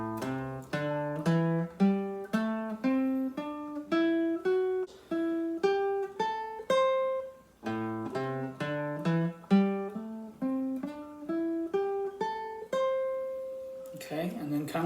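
A guitar plays a descending minor pentatonic scale, single plucked notes in steady rhythm stepping down, then repeats the run, clear and close with no talking.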